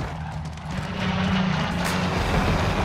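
Helicopter in a video game, a steady low engine and rotor drone that swells slightly partway through, close and continuous with no talk.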